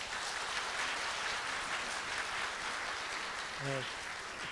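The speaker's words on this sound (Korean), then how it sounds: "우리 윤상 장관께 다시 한번 큰 박수로 인사드립니다" An audience at a CEO forum gives the industry minister a sustained round of applause, dense and even throughout, with a brief voice near the end.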